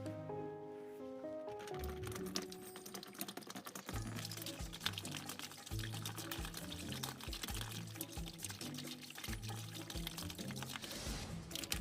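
Water pours from a pitcher and splashes steadily onto a small water wheel for several seconds over a backdrop of rhythmic music, with clicking and trickling sounds mixed in.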